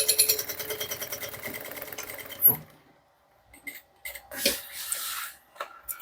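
A sewing machine stitches the closing seam of a handmade bag in a short rhythmic run, followed by a few scattered rubbing and handling noises.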